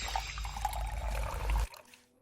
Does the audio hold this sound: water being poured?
yes